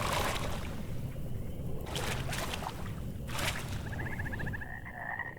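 Frog croaking inside the Mortal Shell video game, with rhythmic croaks over a steady ambient bed and a brief trilling call toward the end, no talk heard.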